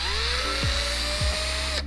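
A power tool spins out 10mm bolts on a BMW F30 taillight in two short whirring bursts over a steady background hum, with no talking.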